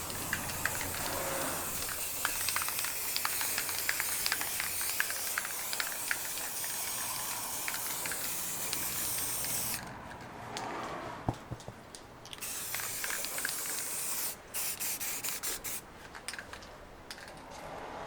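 Satin black aerosol paint sprays in a steady hissing burst for about ten seconds, then comes in short interrupted spurts with clicks and pauses. The sound is close, with no talking.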